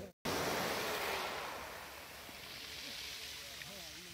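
Surf rolling onto a beach on the Kochi coast where a rescued sea turtle is released, a steady broadband wash that swells and eases, close and fairly loud, with voices faintly in the background after a brief dropout at the start.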